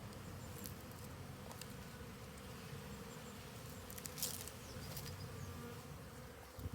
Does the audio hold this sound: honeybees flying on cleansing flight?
yes